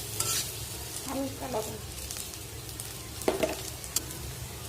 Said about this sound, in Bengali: এখন এগুলোকে একটু ভাজা ভাজা করবো যাতে কাঁচা গন্ধ না লাগে